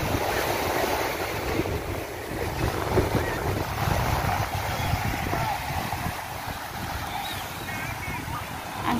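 Sea waves washing in at high tide on Stanley Main Beach, Hong Kong Island, a continuous rushing surf mixed with gusty wind buffeting the microphone, with people talking faintly over it.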